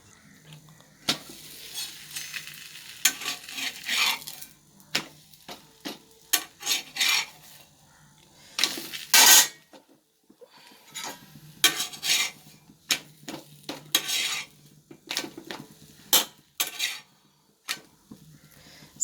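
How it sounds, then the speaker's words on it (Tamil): Chapati cooking on a hot pan for breakfast, heard as bursts of scraping, pressing and pan clatter with faint sizzle between quieter gaps, close and without talk. "சப்பாத்தி சுட்டுட்ருக்கேன்."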